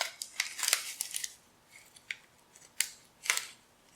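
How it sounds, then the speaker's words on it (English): Scissors snip and slice through packaging to open a parcel holding a 1967 Chevy C10 truck radio, giving quiet, close crisp cuts in short uneven bursts with plastic crinkling between them. "gotta cut one more open"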